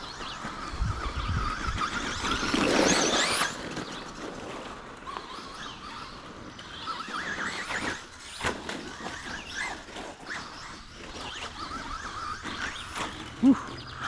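A Traxxas Rustler 2S RC truck drives over rough ground, its motor whining and squealing in a varying pattern with scattered knocks and a sharp clunk near the end, heard close.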